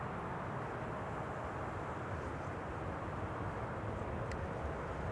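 Transavia Airbus A321neo airliner on approach to land at Schiphol's Kaagbaan runway, a distant, even, broad roar of engines and rushing air that holds steady throughout, with no voices.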